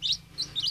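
Day-old chicks in a brooder box give three quick, high, thin chirps in a row against a quiet background.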